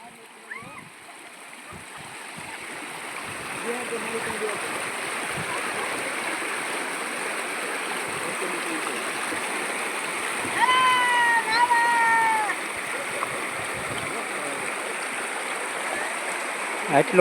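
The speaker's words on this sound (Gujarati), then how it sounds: "પાણી હજી હાલ્યું જાય છે આ જાંબાળી નદી" Soft, continuous burble of the Jambali River flowing runs throughout, with voices and a few faint bird calls over it.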